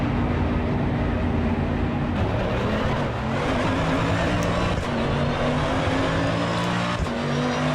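Race car engine in Assetto Corsa Evo droning steadily through a lap, with harmonic engine tones rising and falling as gears shift, continuous and loud with no talking.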